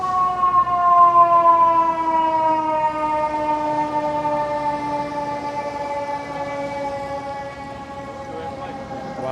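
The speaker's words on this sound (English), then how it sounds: "that was a quick fire engine exit" Fire engine siren as the truck pulls out of its station in Midtown Manhattan, a loud, sustained wail holding high and slowly falling in pitch, fading slightly over several seconds amid city noise.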